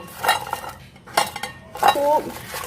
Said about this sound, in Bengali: এখন মশলাগুলোর সাথে এই ফিঙ্গারগুলো ভালোভাবে মিশিয়ে নিতে হবে